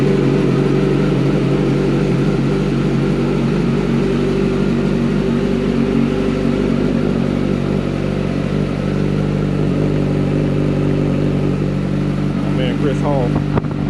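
Kawasaki ZX14R sport motorcycle with a tuned engine idling roughly after a cold start, a loud, close, continuous rumble with a brief rising rev near the end; a voice is also faintly present.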